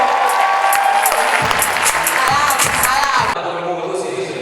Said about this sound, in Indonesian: Boleh kasih tepuk tangan sekali lagi, Bapak Ridwan Kamil.